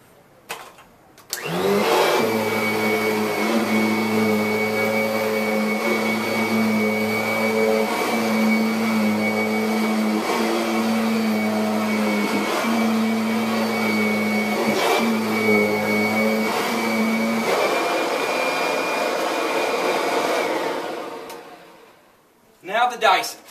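A Kirby vacuum cleaner runs at a steady, loud, close drone for about twenty seconds with a constant pitch, then winds down and switches off, with no talking over it.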